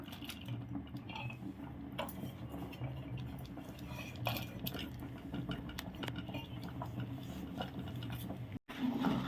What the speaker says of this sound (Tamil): பருப்பு சேர்த்துட்டு கலந்துக்கலாம்